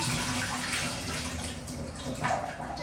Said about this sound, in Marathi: टोमॅटो स्वच्छ धुवून घेते पहिल्यांदा.